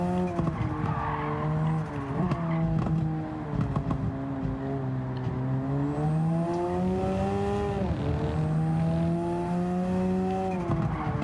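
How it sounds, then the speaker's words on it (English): A car engine in Gran Turismo 7 revs hard through a drag race, a loud, sustained engine tone that climbs and dips with gear changes, with tire squeal mixed in and no talk. "Drag race through the line. The car easily pulling away."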